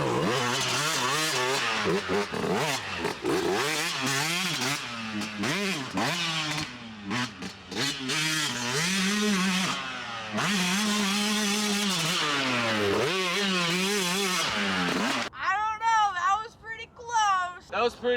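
A 125cc dirt bike rips through an endurocross lap, its two-stroke engine wailing and rising and falling rapidly with each throttle blip and shift, loud and close throughout, ending in choppier revs.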